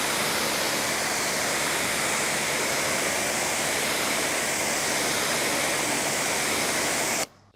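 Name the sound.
pressure washer rinsing car detailing brushes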